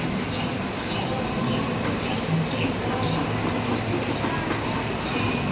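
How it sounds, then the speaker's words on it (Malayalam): A train arriving inside Hi-Lite Mall in Thrissur, a loud, steady rumble with rhythmic wheel clatter that stays close and continuous throughout. "ട്രെയിൻ വന്നുകൊണ്ടിരിക്കുന്നു"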